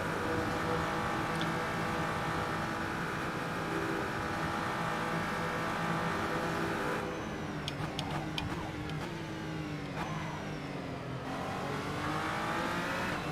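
Engine of a BMW race car in Assetto Corsa, a loud steady drone held at high revs, then dipping briefly through a downshift with sharp crackles before climbing back to a sustained roar.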